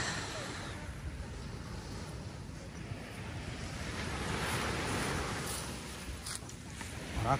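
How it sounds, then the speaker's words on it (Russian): Ocean waves on a Portuguese beach roll in as a steady broad wash of surf, mixed with wind rumbling on the microphone, continuous throughout with no clear breaks and no speech. "Вот, а мы идем с Таней к океану."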